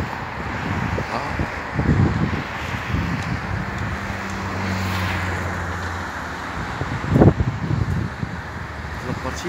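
Gusty wind buffets the microphone in a steady roar near the Mohammed VI Tower in Rabat-Salé, Morocco, with low traffic rumble and muffled voices in the background.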